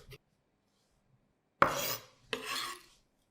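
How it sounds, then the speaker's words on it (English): A knife works through a 2-inch piece of fresh ginger, peeling and slicing it thin: two close, rasping scraping strokes, each under a second, separated by a short pause after near silence, with no talking. "Take about 2-inch piece of fresh ginger, peel it and slice it into very thin juliennes."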